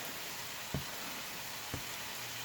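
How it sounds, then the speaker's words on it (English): Green pepper and white onion sautéing in a pan, a soft, steady sizzle with a faint hiss throughout, broken by two brief low knocks of the pan or utensil; no voices. "So we'll go ahead and let that cook and get sauteed a little bit while our meat is finishing up"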